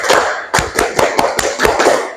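Students in a classroom ice-breaker clap together in a spirited rhythmic pattern: crisp, loud group claps in short repeated clusters with brief gaps, close and lively.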